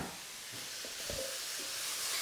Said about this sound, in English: Smoking hot, ginger and garlic in. Bring the chicken straight over the top so it doesn't burn the garlic.